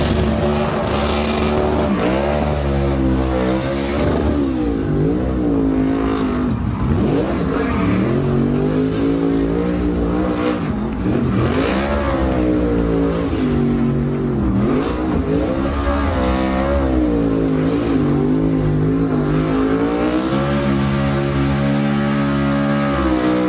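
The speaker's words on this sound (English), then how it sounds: "They don't do a great burnout." A NASCAR Cup Series car on wet-weather tires doing a burnout on damp asphalt in Chicago, the engine roaring loud and close with rising and falling revs under a constant tire squeal.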